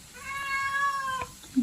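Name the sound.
cat meowing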